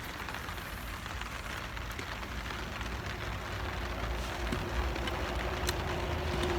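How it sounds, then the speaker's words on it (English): Heavy rain pours down steadily outdoors at a riverside fishing spot, a dense, even hiss that holds for several seconds, with no voices over it. "It is raining quite heavily now."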